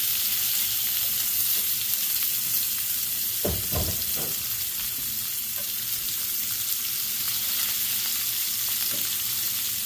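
Chopped onion sizzles in a hot oiled pan for cod in tomato sauce, a steady close hiss with a couple of brief stirring scrapes partway through.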